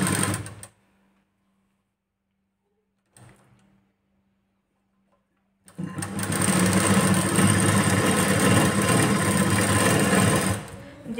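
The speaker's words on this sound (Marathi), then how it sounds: "तर आता आपण ती स्टिच आहे ती इथे देऊन घेऊ." Sewing machine stitching the back seam of a blouse: after a few faint bumps and near-silence, it runs loud and continuous for about five seconds, close by, with no talk.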